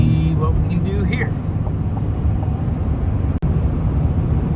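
Car cruising on a Wisconsin highway in sport mode, a steady low road and engine rumble with tire noise from inside the cabin, under someone talking at the start.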